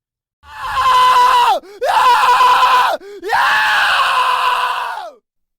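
Long drawn-out human scream used as an audiobook sound effect: three loud, sustained wailing cries, each breaking off with a brief gasping dip before the next, the last trailing away.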